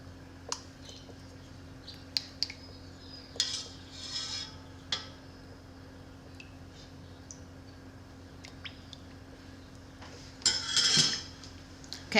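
Homemade mozzarella curds are scooped from a pot into cheesecloth: sparse clinks and taps of a utensil against the vessel in a quiet kitchen, ending in a brief, louder wet squish and rustle.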